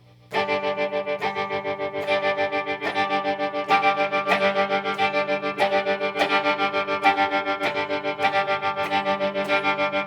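An electric guitar plays with echo and effects, giving bright, sustained strummed chords that repeat in an even rhythm with trailing repeats, loud and alone.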